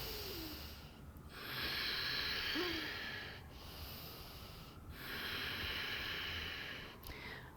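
A big, slow breath taken during a yoga pose for the feet and hamstrings: soft, airy inhales and exhales swell and fade several times, faint and close, with no talking.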